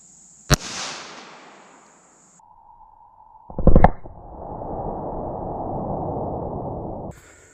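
A single sharp .380 ACP pistol shot fired at a cantaloupe, a loud close crack with a decaying tail, followed later by a short burst of clatter and a long steady rushing noise.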